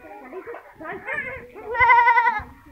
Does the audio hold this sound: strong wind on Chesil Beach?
no